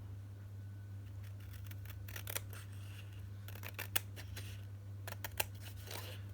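Scissors snip a small paper tag in a quiet room, a series of crisp, close cuts in irregular clusters over a low steady hum.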